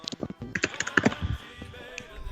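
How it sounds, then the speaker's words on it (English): Fingers tap rapidly on a computer keyboard nearby in a quick, uneven burst of clicks that thins out to a few scattered keystrokes. "I was just typing"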